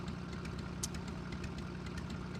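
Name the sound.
loud engine of a machine in a video game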